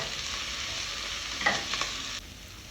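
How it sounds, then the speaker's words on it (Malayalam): Onions sautéing in a pan, a steady soft sizzle with a couple of brief stirring scrapes partway through, heard alone without talk. "ഉള്ളി ഒന്ന് ലൈറ്റ് ബ്രൗൺ ആവുന്ന വരെ നമ്മൾ സോട്ട് ചെയ്തെടുക്കണം"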